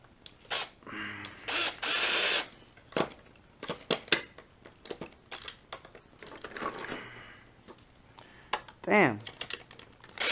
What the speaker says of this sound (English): I've never had this much of a hard time getting a screw in place.